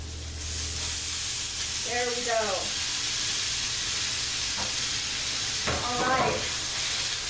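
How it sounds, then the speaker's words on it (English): Continuous loud sizzling from shrimp frying in a pan, close and steady, with someone briefly speaking over it twice. "you're going to get ready for another big sizzle"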